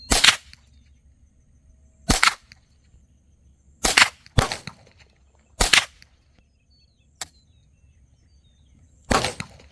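A Ruger 10/22 TALO edition rimfire rifle firing Browning ammunition at about 25 yards. Seven sharp, close shots ring out at irregular intervals with near-silence between them.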